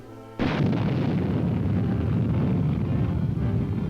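An Honest John medium-range artillery rocket launches with a sudden loud blast followed by a sustained roaring rumble that holds steady for several seconds.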